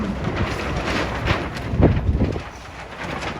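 Wind gusting outdoors in a city and rumbling across the microphone, a loud broadband rush that swells around the middle and then eases off, with no speech.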